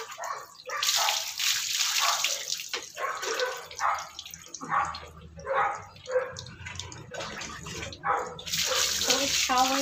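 Shower water runs and splashes in bursts as dogs are washed, with a dog giving short barks or whines between the spray.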